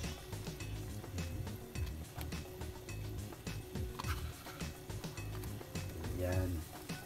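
Ginger and garlic sizzle in a pan for ginataang crab and shrimp, a constant crackling fry with frequent clinks and scrapes of stirring, close and steady.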